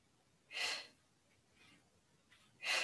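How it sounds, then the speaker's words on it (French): Quick breaths during a Pilates exercise: two strong breathy bursts near and at the end, with two fainter breaths between, in an otherwise quiet room. "J'inspire, j'expire. C'est une respiration assez rapide."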